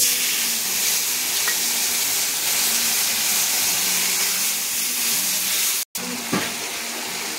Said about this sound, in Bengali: তো মশলায় দিয়ে দেবো সামান্য পরিমাণ জল।